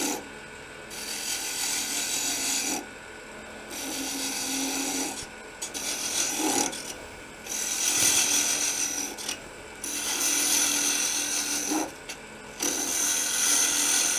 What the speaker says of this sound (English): We're going to take the skew and just do some peeling cuts